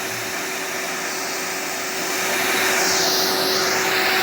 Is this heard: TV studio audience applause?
no